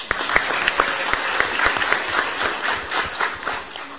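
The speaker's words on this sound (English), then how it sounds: "Round of applause" A crowd at a school board meeting applauds steadily, many hands clapping at once in a dense, sustained patter that tapers slightly toward the end.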